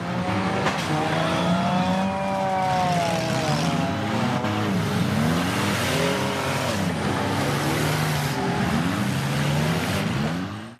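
Cars at a 1996 demolition derby event roar loudly and steadily, with revving engines rising and falling and tires squealing throughout, no voices over the din.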